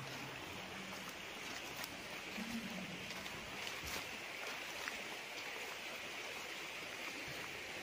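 Shallow stream on a farm lot in Liliw, Laguna, a soft continuous rush of flowing water, faint and steady throughout with no voices over it.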